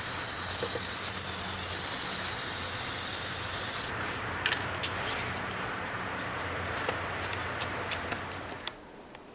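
Steady hiss of an aerosol spray paint can held close, spraying into a box, running continuously with a few brief clicks and pauses near the end.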